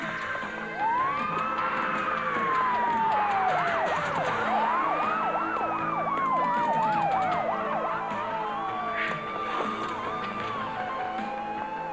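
A wailing police siren sweeps up and down continuously, loud and fairly close, with overlapping tones and no talking.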